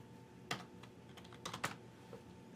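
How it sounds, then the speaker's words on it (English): Soft keyboard typing on a computer, a few scattered key clicks and a short quick cluster over a steady background hum, fairly quiet and close. "I can just start typing"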